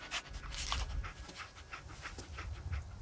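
Dogmeat, the dog companion in Fallout 4, pants rapidly and steadily up close in a quick, even rhythm with no talking over it.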